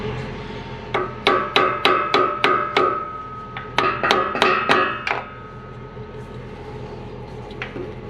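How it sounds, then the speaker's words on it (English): A small hammer taps repeatedly on metal on a truck during homestead pond repair work. Two quick runs of about six sharp, ringing strikes are close by, followed by quieter scattered knocks. "Might have to get a little hammer and tap it a little bit out of the truck"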